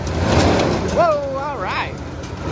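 A Dodge car engine revs up as the gas pedal is pressed, a rising and falling roar close by, with a voice talking over it.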